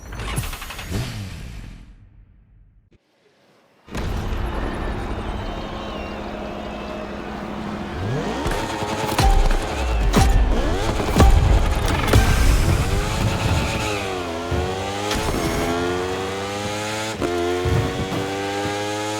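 Racing engines in the video game The Crew Motorfest, beginning with a short whoosh and a moment of silence, then several high-pitched engines that build loudly and rise and fall as they rev through gears.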